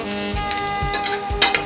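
Ridge gourd pieces sauté with salt in hot tempering oil, a steady close sizzle punctuated by three rhythmic scraping stirs of a spoon against the pan and a sharp clink near the end.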